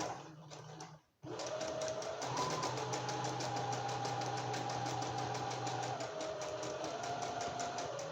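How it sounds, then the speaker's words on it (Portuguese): Domestic sewing machine stitching fabric with a half presser foot while making a small notebook cover, a short pause and then a steady, close mechanical whir that holds evenly to the end. "Vou fazer com meio pezinho de máquina."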